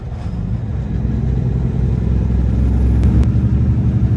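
NASCAR race cars roaring around the track, heard as a steady, distant engine drone and low rumble that swells slightly toward the end, with no voices over it.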